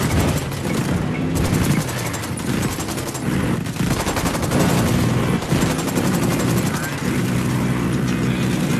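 Sustained automatic gunfire from a squad firefight in Ghost Recon Wildlands, dense rapid bursts overlapping with deep booms, loud and continuous throughout the clip, with voices shouting briefly over the shooting.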